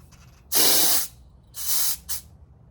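Gas hisses out of a bled fuel tank valve in three bursts: a loud one lasting about half a second, a shorter one, then a brief puff, all close by with no talk.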